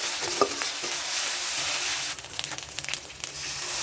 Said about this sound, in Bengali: এখানে আমি 1 চামচ পরিমাণ আদা রসুন বাটা দিয়ে আবার একটু ভেজে নিচ্ছি।